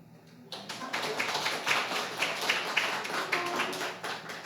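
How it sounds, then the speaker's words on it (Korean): A church congregation claps together for about four seconds, a steady burst of applause under a faint low hum, with no talking. "박수 한번 쳐주세요"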